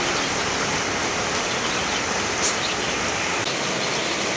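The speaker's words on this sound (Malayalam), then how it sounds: "പുറത്ത് ഭയങ്കര മഴയാണ്" Heavy rain falling outside a house, a loud, even, unbroken hiss with no pauses and no voices.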